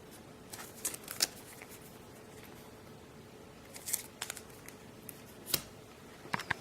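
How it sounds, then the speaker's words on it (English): A deck of cards is shuffled during a solo tabletop game of 7 Ages. Quiet, close riffling and rustling bursts come in short irregular clusters against a soft background. "we shuffled the deck and can draw 3 more cards"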